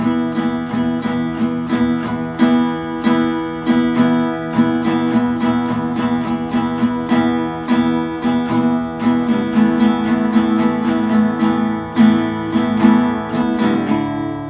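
Steady acoustic guitar strumming in a regular rhythmic pattern, a held chord struck repeatedly with crisp down and up strokes, close and clear, no voices.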